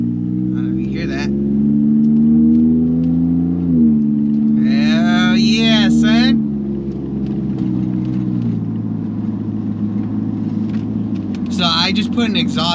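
A 2020 Ford Raptor pickup with a newly fitted custom exhaust rumbles low and steady close by, its note rising in a couple of brief revs, while someone talks over it throughout.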